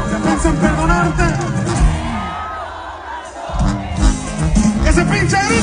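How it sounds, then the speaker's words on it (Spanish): A live concert crowd at a show shouts, whoops and cheers loudly in a dense continuous roar, with voices rising over one another throughout. "Ese pinche grito"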